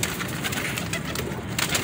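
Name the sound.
pigeon cooing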